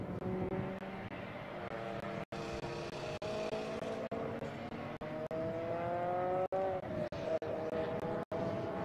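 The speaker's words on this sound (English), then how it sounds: "That's Scott Dolehite right there running in his 6th gen Chevrolet Camaro SS" A 6th-generation Chevrolet Camaro SS engine drones steadily at high revs on the Circuit of the Americas race track, its pitch rising and shifting as it speeds along, sustained and fairly loud throughout.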